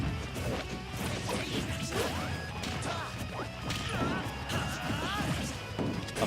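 Smash attack hits land in a Super Smash Bros doubles match, with repeated sharp crashing impacts and whooshes over steady game noise and commentary voices.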